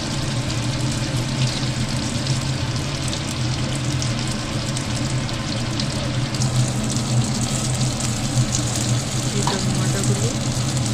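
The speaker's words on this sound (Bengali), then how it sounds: "গোল গোল করে ভেজে নামিয়ে নিচ্ছি" Small balls of flour dough fry in hot oil in a wok for a Kashmiri dhoka recipe, giving a steady, close bubbling sizzle with faint stirring scrapes that runs unbroken the whole time.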